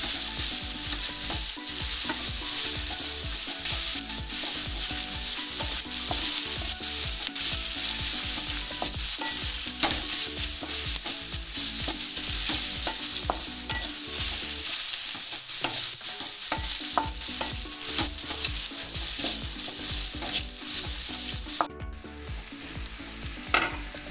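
Chicken roast masala with salt and turmeric sautéing in a pan, a steady close sizzle broken by frequent scraping and clattering stirs throughout, briefly quieter near the middle and again near the end, with no talking.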